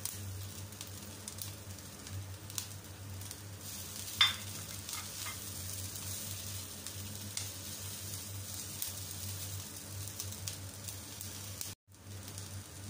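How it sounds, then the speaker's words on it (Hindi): Flour and spices roast in a pan over a medium-low flame for a bread roll filling, giving a soft, steady sizzle with occasional light scraping stirs, faint and close with no talking. "मैदा शामिल करते ही इसकी हीट जो है फ्लेम हमने मीडियम लो पे कर दिया है ताकि मैदा फौरन से जल ना जाए"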